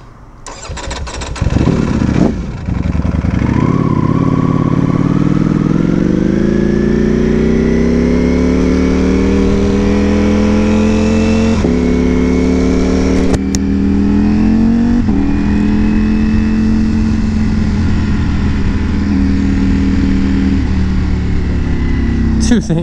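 A Ducati V4S motorcycle with a full carbon fiber body and an unfamiliar clutch stalls, then its engine restarts and settles into a loud, steady idle with rising revs, close up, with a voice talking over it.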